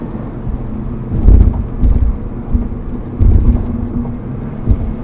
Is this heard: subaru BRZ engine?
yes